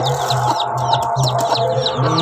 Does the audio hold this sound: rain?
no